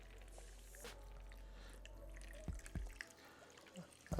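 Liquid is poured around smoked oxtail in a pot, giving a soft continuous trickle with a few wet drips and squishy plops near the end, close and fairly quiet.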